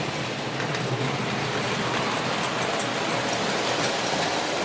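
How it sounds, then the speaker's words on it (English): A prewar Lionel 390E standard gauge toy locomotive pulling a combination car runs along a layout. It makes a steady, dense rolling rumble that holds at a constant level throughout. "Train that's running is a 390E."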